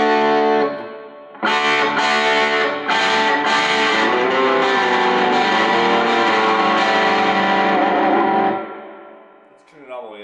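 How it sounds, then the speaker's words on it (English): Electric guitar through the distortion channel of a Roland JC-40 amp on a humbucker pickup, loud sustained overdriven chords with a few rhythmic stabs early on, ringing out and dropping away near the end. "let's give the distortion a little try"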